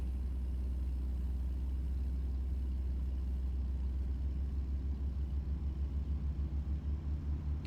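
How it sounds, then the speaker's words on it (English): Default truck engine in American Truck Simulator with the Jake brake engaged, a steady deep low rumble running continuously, loud and close, with a faint pulsing throb growing toward the end. "I do like the sound of this truck by default."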